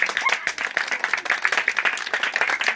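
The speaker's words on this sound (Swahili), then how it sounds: "Akiingia tunachapa makofi" An audience claps steadily in a dense, lively burst of applause welcoming a teacher to a church lesson, with no voices standing out.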